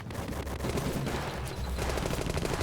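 Gunfire in a movie firefight crackles on without pause, with dense overlapping shots at a steady loud level and no speech.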